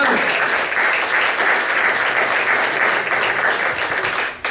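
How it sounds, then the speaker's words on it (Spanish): Congregation applauding in a church, a dense, steady burst of many hands clapping at once, loud and close, tapering off sharply at the end. "Denle un aplauso al Señor, hermano."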